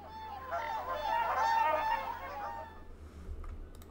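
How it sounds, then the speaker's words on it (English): A burst of nasal, honking duck quacks, fairly close and loud, fading out after a couple of seconds with a low rumble beneath. "We have some duck noises."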